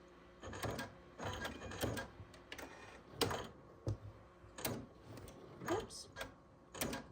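Sewing machine stitching quilt fabric along the diagonals of a scrappy heart block, faint short mechanical bursts repeating in an uneven rhythm with brief quiet gaps.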